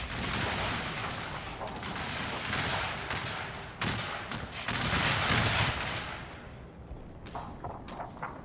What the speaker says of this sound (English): Artillery's going off, but the enemy are in the wood line